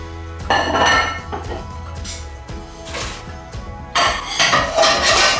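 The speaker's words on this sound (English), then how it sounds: "As I take the lid off, I feed them all in at once." Metal pot lid lifted with a clatter, followed by homemade dumplings dropped into boiling water, giving bursts of clinking, knocking and splashing against the pot, close and fairly loud.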